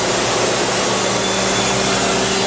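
A woodworking machine drills pocket screw holes in parts for an Amish glider, a loud, continuous, steady whirring roar close by with no break.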